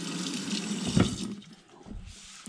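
Tap water runs briefly to rinse a part of an espresso machine in a kitchen sink, a short splashing gush that stops and trails into quiet dripping, close by with no talk.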